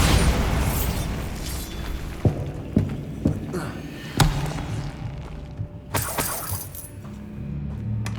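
Bombarda blasting spell explosions in Hogwarts Legacy on PS5, heard as a rumbling boom followed by several sharp cracks and debris-like bursts over a continuous game soundscape.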